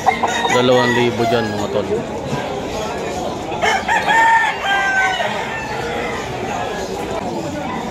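A yellow-legged Sweater Kelso gamecock of Gilmore bloodline, about ten months old, crows loudly and close at a busy Malabon market, with clucking fowl around it and someone talking over it.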